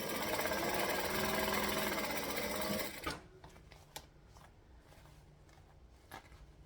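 A domestic sewing machine runs steadily and fairly loud while stitching a pocket seam, then stops abruptly, leaving faint handling clicks and small knocks.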